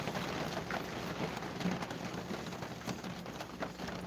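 Steady rain falls in a continuous, even wash of noise with no clear gaps, fairly close and loud enough to fill the whole stretch without any talk over it.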